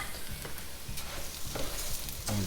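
Onions softening in butter and oil in a pan, a continuous moderate sizzle with faint intermittent stirring scrapes, heard up close without speech.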